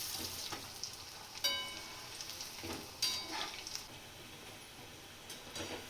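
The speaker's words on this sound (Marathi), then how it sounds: "बारीक गॅसवर खरपूस होईपर्यंत तळून घ्यायचं चांगले" Cabbage gobi manchurian balls frying on a low flame give a soft, steady sizzle with a few louder crackles and stirring bursts, fairly quiet overall and without talking.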